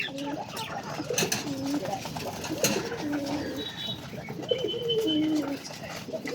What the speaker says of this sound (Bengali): দেখো আমাদের একটা গিরিবাস কবুতর কেমন লাগছে